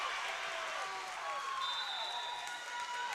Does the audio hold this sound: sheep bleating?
no